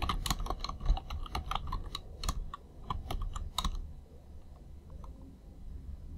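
Fast, close typing on a computer keyboard while Python code is entered in PyCharm: a dense run of crisp key clicks for about four seconds, then a few sparse taps before it falls quiet.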